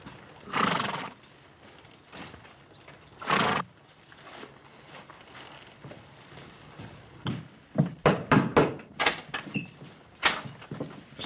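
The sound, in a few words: horses arriving, hooves clip-clopping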